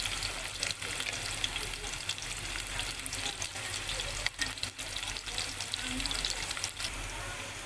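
Curry leaves and onion sizzle in a pan while pulao is being cooked, a soft steady frying hiss with occasional stirring clicks and scrapes, low in level.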